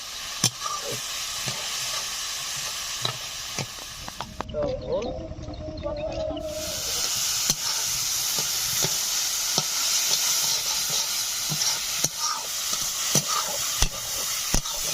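Banana flower curry cooking down in a pan as it is stirred, a continuous close sizzle with scattered scraping clicks and a brief quieter dip partway through.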